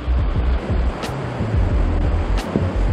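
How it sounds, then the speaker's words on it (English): Turbulent rushing water from a raging river along the Old Ghost Road in New Zealand, a dense roar with low rumbling buffets, heard up close outdoors. "Raging river."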